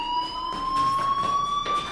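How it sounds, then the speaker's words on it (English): A fire alarm rings in the video game Life is Strange, a continuous shrill electronic tone holding steady at moderate loudness with no pauses and no talk. "Hey, do you hear that fire alarm?"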